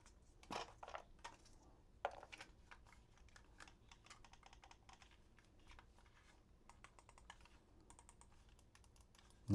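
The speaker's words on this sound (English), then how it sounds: "Nice mouse click buttons" Sharp mouse-click buttons on a SCUF Omega PlayStation 5 controller tapped in quick, irregular bursts, crisp close-up clicks with a few louder snaps and brief pauses, no talking.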